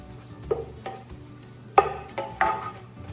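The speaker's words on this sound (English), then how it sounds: "we're gonna toast this bread right in the pan like this. So let's mix it all up and get that butter all over that bread." Bread toasting in butter in a pan while being stirred, with a few sharp scraping clinks over a low, quiet sizzle.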